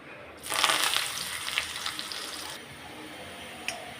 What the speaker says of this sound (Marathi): कांदा इथे छान मी फ्राय करून घेतलेला आहे